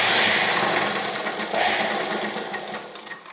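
Sewing machine stitching a slanted seam along the armhole of lehenga choli fabric, a steady buzzing whir that runs close and continuous for a few seconds without talk.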